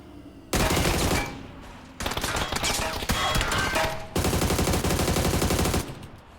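Rapid automatic gunfire in an online shooter game, several dense bursts of shots separated by brief pauses, loud and close, with no talk over it.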